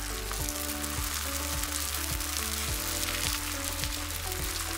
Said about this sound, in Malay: Kemudian panaskan kuali, grease minyak dan bolehlah goreng